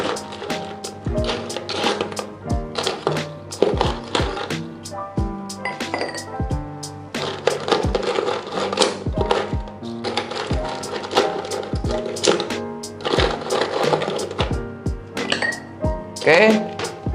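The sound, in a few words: ice cubes added to cocktail glasses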